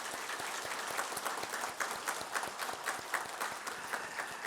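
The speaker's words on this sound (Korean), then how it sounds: "그럼 우리 박수로 화답 한번 합시다" Congregation applauding after a church Christmas cantata, a steady dense wash of hand claps from a full room that holds evenly throughout with no talk.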